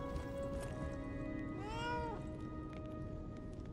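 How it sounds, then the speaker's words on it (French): A cat meows in the video game Lies of P: one clear, drawn-out rising and falling meow in the middle, over a steady backdrop of game music and ambience, with no talking. "Petit chat."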